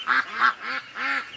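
Ducks at a lake on a hot day give four distinct quacks in quick succession, each a harmonic nasal call, moderately close and alone without talk.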